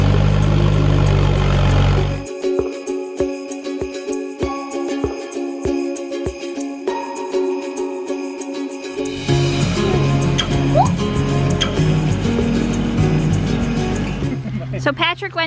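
A vehicle engine on a flooded farm runs and builds speed as it is shifted up toward fifth gear, with a steady motor drone, shifting clicks and a change in pitch partway through, and a voice speaking over it.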